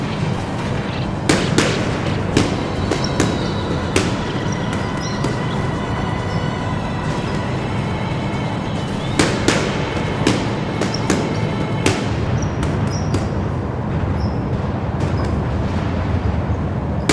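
Musket volleys in a Total War battle at Rorke's Drift, sharp cracks and pops fired from surrounding high ground, scattered and overlapping over a constant battle din, no voices.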